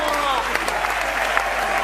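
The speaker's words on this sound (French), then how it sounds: "Applaudissez." Applause fills an award ceremony hall, a continuous hiss of many hands clapping with a few sharper claps, while a voice is faintly audible at the start.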